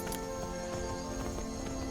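A horse carrying its rider across the land in Skyrim: a steady clip-clop of hooves at a walking pace, set against a continuous bed of game music and ambience.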